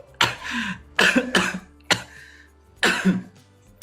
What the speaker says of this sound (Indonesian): Maaf ya teman-teman, saya lagi batuk nih.